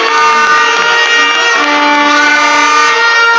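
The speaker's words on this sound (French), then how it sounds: "S'il vous plaît, les klaxons, il faut les garder pour après." Car horns blaring at a political rally in Mali, many sustained honks layered into a loud, continuous droning chorus with no pauses.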